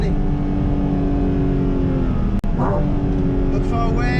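A Porsche GT4 RS accelerating hard on the Nordschleife, its engine a loud, sustained onboard drone with one brief break, probably a gear change, before the roar resumes.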